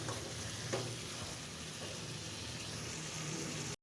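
Ridge gourd with small shrimp sautés in a pan, giving a continuous, dense frying sizzle at close range with one faint clink of a spatula early on. The sound cuts out abruptly just before the end.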